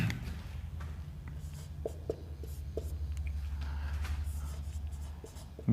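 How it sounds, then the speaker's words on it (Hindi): Pen scratching across paper or a board in a classroom lesson, short strokes ticking irregularly over a steady low hum, fairly close and soft, no talk. "6वां पॉइंट लिखेंगे"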